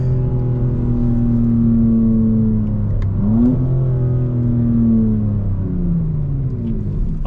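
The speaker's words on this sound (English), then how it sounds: "Car sounds nice." A 2025 BMW M4 Competition xDrive engine revs loud and close, its steady drone climbing and falling through several rising sweeps with no talking.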